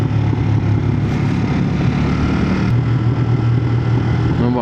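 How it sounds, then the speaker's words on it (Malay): A Kove 800X GT motorcycle engine drones steadily up close on a ride to Genting, its exhaust rumbling low and continuous with a slight rise in revs toward the end. "Nampak bunyi exhaust dia."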